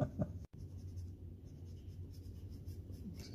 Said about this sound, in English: This is a really important stage with the black pencil.